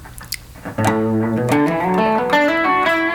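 An electric guitar on its bridge pickup, after a few soft clicks, plays a bright, slightly raspy run of single notes that climbs in pitch, close and loud with no voices.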